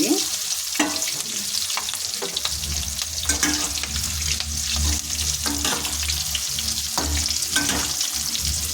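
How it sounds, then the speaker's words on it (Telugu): Cut mirchi bajji pieces refried in hot oil, giving a loud, continuous crackling sizzle close up, broken by intermittent stirring scrapes throughout. "ఇవన్నీ మళ్ళీ నూనెలో వేయించుకుందాము మళ్ళీ వేపుకుందాము"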